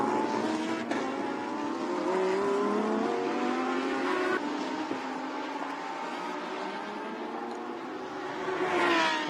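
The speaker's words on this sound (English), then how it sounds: "So here is Kasai, car number 63, FFF Racing Team." A Lamborghini Super Trofeo race car laps the Yeongam circuit in a 2019 Asia series race, its engine rising through gears with shifting pitch, loud and continuous, a second pass surging near the end.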